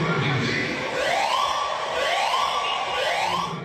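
Wailing sirens from police vehicles and ambulances rushing to the scene of a stabbing attack in Sydney rise and fall in repeated sweeps, loud and close, over a murmuring crowd.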